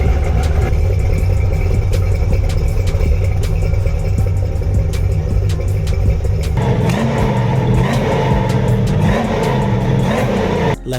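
A Banshee car engine runs loud and close with a constant droning rumble, its tone shifting partway through as it settles into idle.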